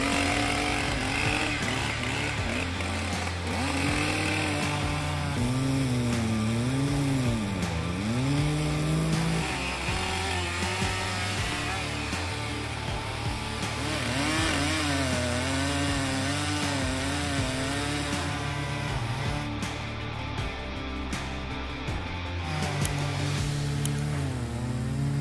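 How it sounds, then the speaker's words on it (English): A Stihl MS-881 chainsaw of about 12 horsepower cuts into a large oak stump, its engine droning loudly and continuously with pitch rising and falling as the chain bites and frees up in the wood. "the steel MS-881 saw can easily cut a large oak stump in just a few seconds"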